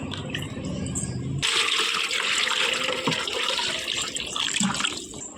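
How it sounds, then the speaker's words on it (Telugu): Water pouring into a bucket set out for dogs in front of a house, a steady close gushing splash that starts abruptly after a brief quiet lead-in and runs continuously. "ఇప్పుడు నీళ్ళు పోస్తా అందులో"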